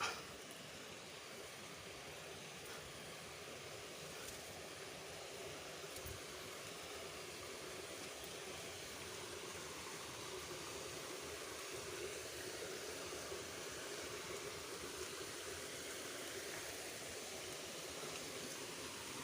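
A stream flowing steadily where gold is being searched for, a soft, even water rush heard faintly and at a distance, continuous throughout with no voices.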